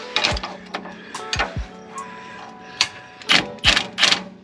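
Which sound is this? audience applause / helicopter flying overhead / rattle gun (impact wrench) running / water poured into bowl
rattle gun (impact wrench) running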